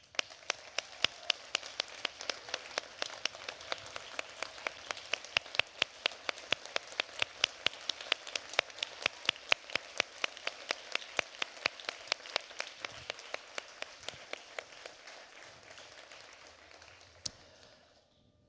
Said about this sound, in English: I would ask them now to please stand and receive our applause.